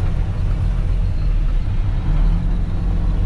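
Big dump trucks drive through a quarry pit where stone is crushed, giving a steady, loud low engine rumble and road roar that runs continuously with no talk.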